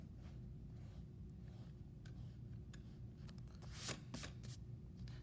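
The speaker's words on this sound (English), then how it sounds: "So I'm just erasing these lines." An eraser rubbing pencil grid lines off paper, soft scratchy strokes against a steady low hum, with a brief louder burst of rubbing near the end and no talk.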